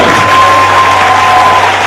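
A church congregation applauds and cheers the Lord at a worship service, a steady wash of clapping and crowd noise filling the whole stretch with a thin held tone running through it.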